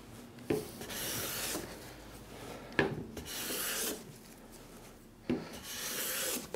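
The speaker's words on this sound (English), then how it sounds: "already I'm getting a more consistent shaving on this second pass across the board" Hand plane pulling shavings along a wooden board, three long rasping strokes each opening with a sharp knock, close and moderately loud, with quiet gaps between passes and no speech.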